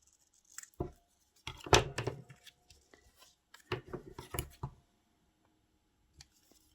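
Paper being snipped with scissors for a small collage card, a few crisp cuts and rustles clustered near the start, then quiet with a faint click near the end.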